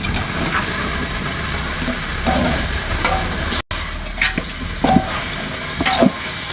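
Mutton pieces frying in a pan for biryani give a steady, loud sizzle, with a few scraping stirs and clanks coming through near the end.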